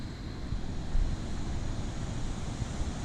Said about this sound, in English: Look at it splashing down there.